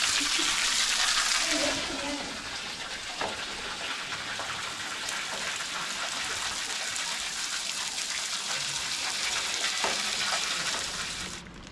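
Continuous hissing spray of water from trick fountains in Salzburg splashing down, a steady broadband rush that stays loud throughout with faint background voices.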